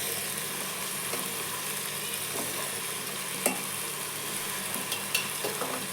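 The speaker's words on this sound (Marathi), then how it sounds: "तेलावरती आता थोड्याशा फ्राय करायच्या भाज्या." Potato, cauliflower, carrot and peas with garlic paste fry in hot oil for pav bhaji, giving a steady broadband sizzle with occasional soft stirring clicks and scrapes, close and continuous with no talk.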